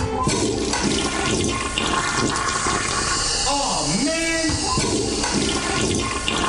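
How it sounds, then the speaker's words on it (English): A toilet flush roars loudly and continuously, with water rushing and a gurgling, swirling tone partway through, while a man briefly exclaims over it. "A Double Flush production."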